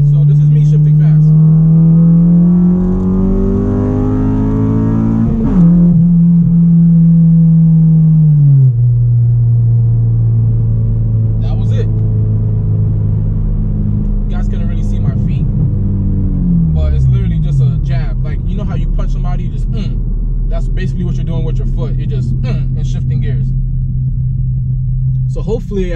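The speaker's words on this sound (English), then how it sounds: "I'm gonna show you guys a quick little fast shift. So this is me shifting fast." A car engine revs hard and drops through several quick manual gear shifts, the pitch climbing, falling sharply between gears, then settling into a steady drone. Loud and close, with brief clicks and noises of the shifter late in the run.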